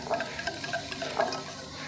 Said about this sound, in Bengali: তেল আর চিনিটা সুন্দরভাবে মিক্সড করে নিয়েছি।